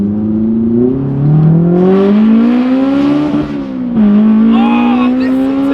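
A Honda S2000 engine revs steadily upward with a loud, smooth rising howl into VTEC, dips briefly as it shifts, then climbs again, heard from inside the car with the windows down.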